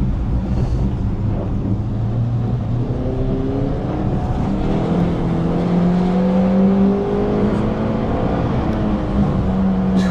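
A car accelerating hard while its rear end slides out, the engine climbing through several rising revs in a loud, close, continuous roar.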